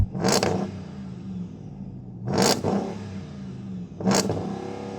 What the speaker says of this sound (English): the speed that this big V8 spins up is quite impressive